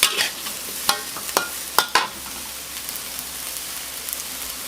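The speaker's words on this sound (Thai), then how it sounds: "ผัดอีกสักครู่ให้เข้ากันนะคะ" Bok choy and minced pork stir-fry in a pan for a keto dish. A handful of sharp spatula scrapes and clacks come in the first two seconds, then a soft, even sizzle continues alone up close.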